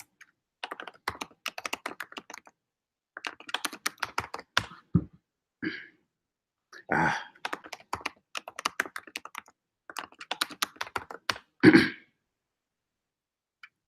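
Bursts of computer keyboard typing on a Kali Linux machine, with clusters of rapid clicks separated by pauses and a louder thump near the end, fairly close and with no speech over it.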